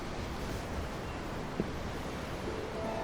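A constant wash of ocean waves fills a short seaside scene in the video game Tales of Arise, an even, unbroken roar with a soft tap midway.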